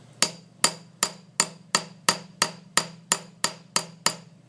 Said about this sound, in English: using the smaller rounded tip of the ball peen hammer, we can go over the surface